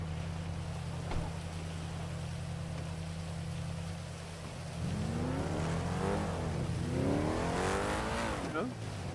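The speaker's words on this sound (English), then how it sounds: "Faith, listen to my car." A car engine in a roleplay driving video game, rising and falling in two revving sweeps over a steady low idle hum, fairly loud, with a faint voice in the background.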